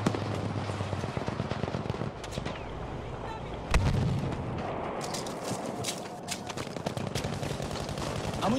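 Rockets strike an enemy tank in a video game, bringing loud booming impacts and rattling gunfire over a dense, continuous battle din, with one sharp blast standing out midway.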